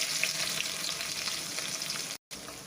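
Onions fry in hot oil with cinnamon, cloves and bay leaf for a pepper curry, making a continuous close, hissing sizzle that cuts out for a moment near the end.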